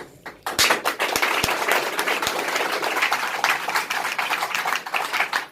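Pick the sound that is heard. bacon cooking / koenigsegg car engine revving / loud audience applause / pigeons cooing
loud audience applause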